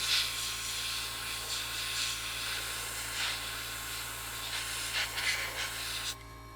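A Gaahleri GHAD-39 airbrush sprays Mr. Surfacer primer at a small setting, giving a steady soft hiss of air and paint close by with a faint constant hum beneath, then stopping abruptly near the end.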